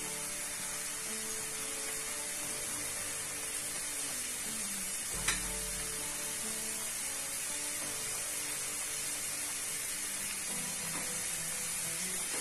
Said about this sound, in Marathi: पाच सहा जेवढ्या बसतील एवढ्या टाकायच्या तेलामध्ये